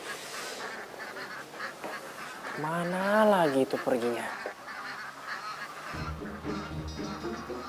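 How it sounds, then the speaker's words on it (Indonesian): Ducks in a duck pen quack and honk noisily, with a loud burst of repeated calls in the middle, while someone speaks in a hushed voice before and after and faint rustling continues. "Tumben itu bebek jam segini berisik."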